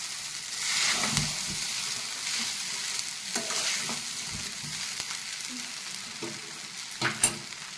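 Sabudana khichdi sizzling and frying in a pan while being stirred, a steady close hiss with repeated scraping strokes of the spoon throughout.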